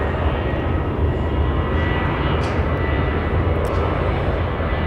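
An airliner roars loudly and steadily close by at Dallas Love Field airport, a Copa Airlines plane passing the spotters with a continuous engine rush and no talk.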